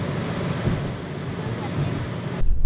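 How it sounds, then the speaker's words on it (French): Strong wind buffeting the microphone outdoors in Page, Arizona, a loud, continuous roaring rush that fills the clip and swells again at the end. "Il y a du vent, énormément de vent"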